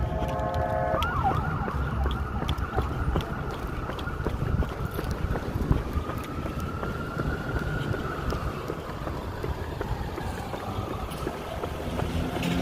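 An ambulance siren wails in a city street during a convoy event, its rising and falling tone moderately distant under constant wind noise and traffic rumble.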